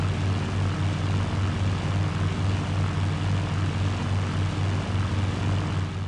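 Propeller aircraft engine drone from Battlefield 1942, a steady, loud, unchanging low hum with a fine rhythmic pulse running through the whole stretch, no voices.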